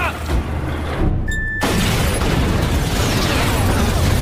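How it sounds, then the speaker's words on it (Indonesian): A bomb hidden in a motorcycle explodes in a movie scene: a sudden loud blast bursts in after a short hush and rolls on as a heavy, noisy rumble. "Namun ternyata bom tersebut disimpan dalam motor yang eksekutor gunakan sebelumnya dan bom pun meledak."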